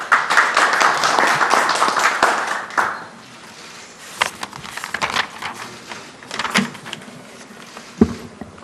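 An audience at a Korean academic policy forum applauds the society president, a loud burst of clapping lasting a few seconds, then fading to scattered claps and room noise.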